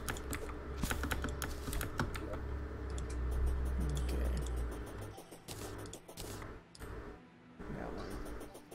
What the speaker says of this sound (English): What sucks is that I have a really loud keyboard now